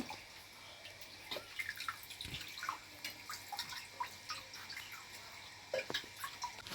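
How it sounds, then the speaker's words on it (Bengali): Water is poured over the hands of deity idols during a Jagannath Snana Yatra bathing ritual at home, making soft close trickling and dripping splashes at a fairly low level. "হাতগুলো ধুয়ে দাও"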